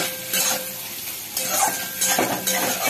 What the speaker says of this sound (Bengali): সয়াবিনগুলো আমি একটু ভাজা ভাজা করব